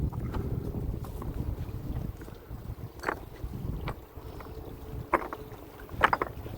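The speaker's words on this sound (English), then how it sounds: "Definitely hear water under these rocks." Continuous low rushing of water flowing beneath rocks, steady and moderately loud, with a few short sharp clicks and knocks scattered through.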